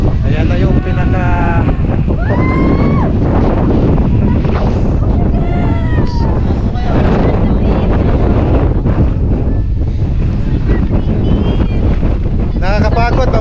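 Strong wind on Mt. Batulao in Batangas roars and buffets the microphone throughout, with people talking and panting over the constant rush of air.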